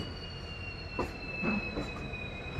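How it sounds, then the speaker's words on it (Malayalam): An express train pulls into Yesvantpur railway station, wheels squealing in thin high tones over a steady rumble, with a few brief louder bursts as the carriages roll along the platform. "നമ്മുടെ ട്രെയിൻ അങ്ങനെ ഇതപ്പോൾ യശ്വന്ത്പൂർ റെയിൽവേ സ്റ്റേഷനിലോട്ടാണ് ഇത് എത്തിക്കൊണ്ടിരിക്കുന്നത്"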